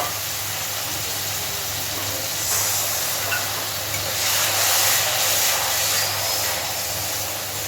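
Water from rinsing the spice bowl hits cumin and mustard paste frying in a pan, a loud steady steam hiss that swells midway and stays broad and continuous throughout.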